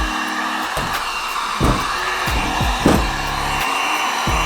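A hair dryer on low heat blows over an old leather JDM Nardi steering wheel, a loud, steady close-up whoosh that dips and surges briefly a few times as it is moved.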